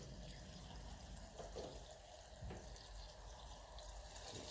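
Water flushing through the fuel tank of a 1957 Ferguson 35 TVO tractor, a steady, faint rushing and trickling that runs without a break and has no talk over it.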